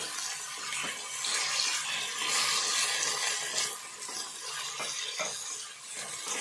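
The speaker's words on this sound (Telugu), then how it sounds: "ఈ టమాటా ముక్కలు ఇందులో కొంచెం మెత్తబడేదాకా వేయించుకుందాము" Tomato pieces frying in a pan for a dried fish curry, a steady soft sizzle with faint stirring scrapes, moderately close and continuous, no voices.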